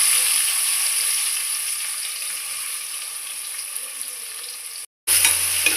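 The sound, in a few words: thinly sliced onions frying in oil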